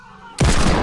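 A hand cannon fires in Fortnite, a sudden loud, close boom that bursts in after a quiet moment and rings on sharply to the end.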